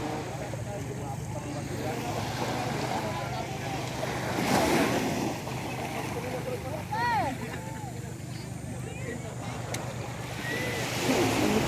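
Sea waves wash onto the beach at a simple resort in Quezon, a steady rushing surf with wind noise. Voices and bird-like calls rise briefly over it.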